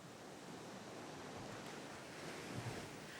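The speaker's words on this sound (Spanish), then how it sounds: "Aquí, las olas del océano llevan troncos que son los residuos de la explotación de la Gran Selva." Ocean surf rolls steadily onto an African shore where the waves wash up logs. It makes a continuous broadband roar with a slight swell near the end, and no voices are heard.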